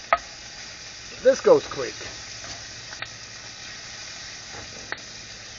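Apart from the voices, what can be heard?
thinly sliced bacon sizzling as fat renders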